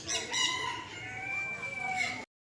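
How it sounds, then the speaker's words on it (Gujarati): A desi domestic chicken calls in a drawn-out, wavering cry that carries for about two seconds, fairly close, with no one talking, at Sakkarbaug Zoo in Junagadh. "આ દેશી મરઘું છે, તેતર."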